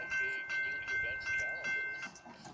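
At a railroad grade crossing, a crossing bell dings in a steady repeating rhythm with a thin constant tone, as a train approaches, while a voice murmurs briefly underneath.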